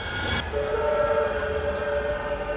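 A tram passes along a Manchester street near the Royal Exchange at night, giving a steady rumble, then a sustained whistle-like tone that holds for about two seconds amid city noise, with no talking.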